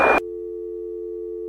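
A short burst of noise cuts off, leaving a flat, steady telephone tone that drones on without change.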